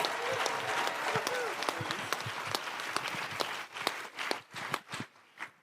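Audience applause at a live podcast panel event, a dense wash of many hands clapping that thins toward the end into sparser, separate claps, with some voices mixed in.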